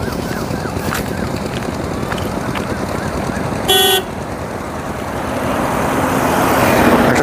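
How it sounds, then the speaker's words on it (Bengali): A training car drives past on a quiet, open road near a rail line, its engine a steady close rumble that swells toward the end, with a brief horn toot partway through. "একটা ট্রেনিং কার চলে গেল"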